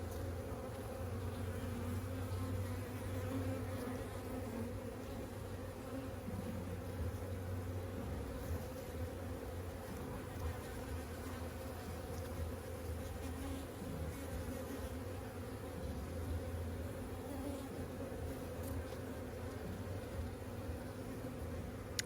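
Honey bees swarming around an opened hive during an inspection, a dense continuous hum of many wings close by, steady and unbroken throughout.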